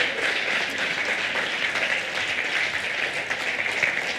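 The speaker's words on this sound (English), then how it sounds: "Would you offer them one more round of applause," At a Grandparents Day livestream event, an audience offers one more round of applause: even, continuous clapping from many hands at a steady level with no talk over it.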